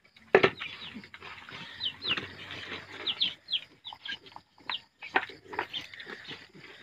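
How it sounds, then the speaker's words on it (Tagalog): Faint clucking and short calls from chickens, scattered and irregular, with other animal noises mixed in. "Sinasaluhan siya ng manok."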